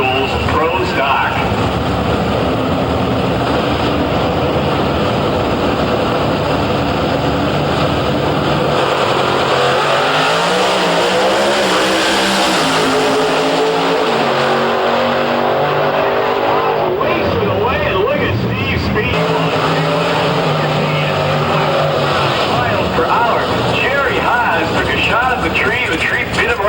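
A pair of Chevrolet Pro Stock drag cars race at an IHRA national event, engines roaring loud and continuous, with a rising, swelling pass in the middle and commentary over the top.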